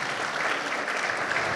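An audience at a panel discussion on constitutional amendments applauds, producing a dense, even wash of clapping throughout with no pauses.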